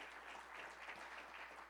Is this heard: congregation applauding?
yes